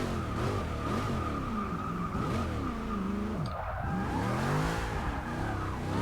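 A stock Chevrolet Impala lowrider drifts in Forza Motorsport 6, its engine droning steadily in fourth gear while the rear tires slide and squeal continuously, loud and close throughout with no talking.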